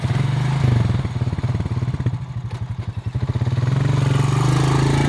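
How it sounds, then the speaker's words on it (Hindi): A motorbike ridden by children in an Indian village, its engine chugging in a fast, throbbing pulse close by, holding a steady note, then dipping briefly before picking up again. "ये देखो, फिर से आ गए ये बच्चे बाइक चलाते चलाते।"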